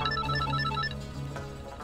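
A phone ringing with an incoming call, a quick electronic trilling ringtone pattern repeating a few times over a low hum before fading out.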